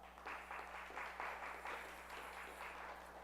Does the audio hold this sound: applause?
yes